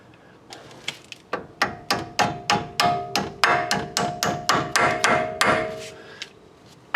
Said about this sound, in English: I'll just tap it in with a hammer